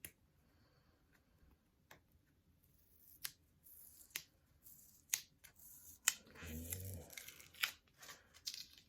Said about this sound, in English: if I can get this tape off